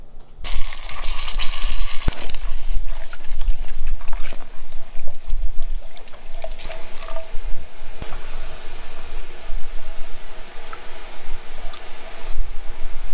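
Two cans of soup, green chili and broth for a green chile enchilada sauce are poured and stirred together in a pan, making a loud, steady, wet sloshing and crackling sound that runs throughout, with occasional clinks.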